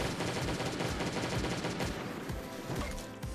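A pistol super discharge shot in the survival game Last Day on Earth, heard as a loud, dense burst of rapid gunfire-like blasts that keeps up through the whole moment before easing slightly at the end.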